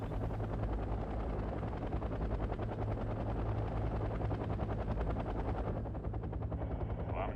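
Soviet Mi-6 heavy transport helicopter arriving in the war game Wargame: Red Dragon, a loud, steady low rotor thrum with a dense, fast chopping pulse, continuous throughout and fading slightly in the upper range near the end.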